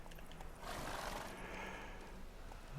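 A horse is ridden in The Witcher 3: Wild Hunt gameplay: a steady, muffled run of hoofbeats under a rising rush of movement noise, fairly quiet and with no talking.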